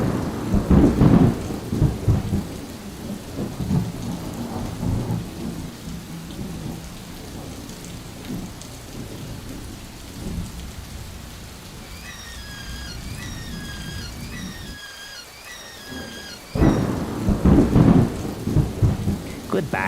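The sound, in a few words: thunderstorm with rain and thunder in video game Death Stranding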